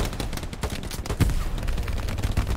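Sustained gunfire from suppressing fire in the World War II shooter Hell Let Loose, a dense run of overlapping rapid shots and bursts that stays loud throughout with heavy low thumps.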